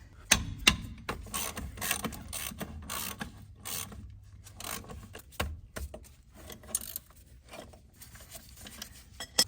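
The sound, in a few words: wrench loosening brake caliper bolts on a Ford F-250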